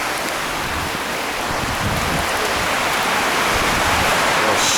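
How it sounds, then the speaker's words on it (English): A heavy tropical rainstorm hits Palawan Island in the Philippines during cyclone weather, making a dense, continuous rushing hiss that stays loud and close, with no talk over it. "We made it just on time for the rainstorm."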